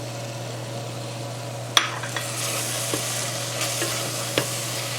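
Pecans added to tender cooked apples in a hot pan, a constant sizzle with a spoon stirring and scraping, one sharp clatter early then softer scrapes, close and without talk, over a low steady hum.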